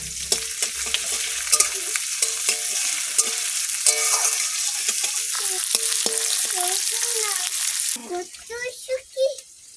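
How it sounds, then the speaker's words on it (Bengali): Onion, garlic and green chili fry in hot oil, a steady loud sizzle with scraping stir strokes throughout. Some faint tonal sounds sit in the background, and the hiss drops away sharply near the end. "পেঁয়াজ রসুন পেঁয়াজ লঙ্কা সব দিয়ে দিলাম তেলে"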